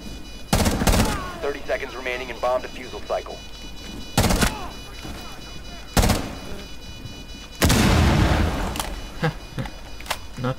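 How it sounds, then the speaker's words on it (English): Explosions and gunfire in the tactical shooter Rainbow Six Siege, heard as a few loud, sharp bursts spread through the clip, the last one big and long with a rumbling decay. Speech-like game voices sound faintly between the blasts. "Explosions."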